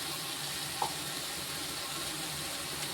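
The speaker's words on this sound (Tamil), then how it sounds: "இப்போ இதை வந்து தண்ணியை ஊற்றி நல்லா வேக வைப்போம்" Water is poured into a sweet corn curry gravy cooking in a pan. It makes a steady, moderately loud hiss of pouring and sizzling that runs through the whole stretch, with no voices.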